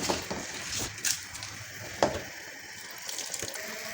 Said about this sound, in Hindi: अब हम इसके अंदर चावल डाल देंगे।